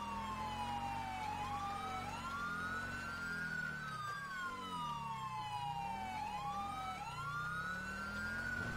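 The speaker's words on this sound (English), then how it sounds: "He's got a siren on there and a couple emergency lights on it." A police-style siren wails and yelps continuously on a fleeing vehicle in a police driving video game, steady and prominent with engine rumble beneath.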